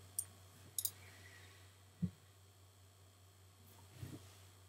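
A computer mouse clicks a few times in a quiet room over a steady low hum, with sharp isolated clicks and one quick double click.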